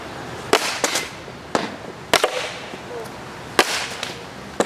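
Hockey slapshots send pucks off in a row, with about five or six sharp cracking impacts spaced unevenly against a steady background hiss.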